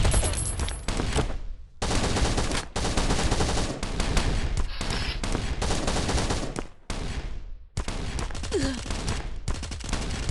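Loud, close automatic gunfire rattles in long sustained bursts with only brief pauses between them during a raid on an arrow-turret-defended base in the survival game Last Island of Survival.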